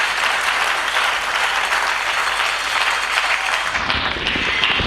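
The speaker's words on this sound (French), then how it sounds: "Nous acclamons très fort le roi des rois." A church congregation breaks into loud, sustained applause, a dense wash of clapping from many hands that stays strong throughout.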